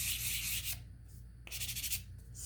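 Sandpaper rubbing over dried painted pieces of a wooden interchangeable toy truck, two close bursts of steady scratchy strokes separated by a short pause, with no talking.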